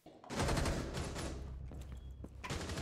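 Gunfire in the tactical shooter Rainbow Six Siege, a loud sustained burst of rapid shots in a game match, dense and continuous throughout.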